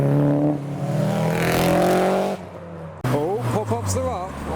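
A Nissan S13 at a Japanese car meet in Reading, its engine droning loud and close for a couple of seconds before cutting off; a voice then talks over a steady background engine rumble.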